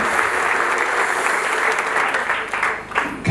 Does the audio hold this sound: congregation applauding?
yes